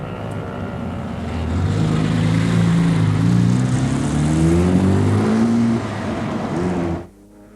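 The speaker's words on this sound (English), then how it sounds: "Sharp bursts of acceleration." A 1970 Ferrari sports car accelerates hard, its engine rising in pitch through the gears in sharp climbing bursts, loud and close, then cutting off abruptly near the end, with no talking.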